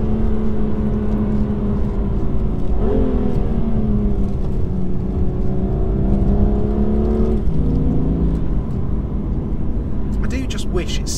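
A BMW M2 engine hums and drones under steady road noise, its pitch rising and shifting as it revs through gears; a voice talks over it.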